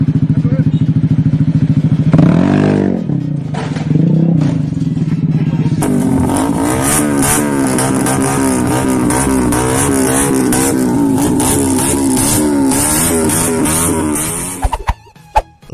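A loud modified motorcycle exhaust revved hard again and again close up, the engine note rising and falling in repeated blasts, with rattling and clatter, before cutting off abruptly near the end.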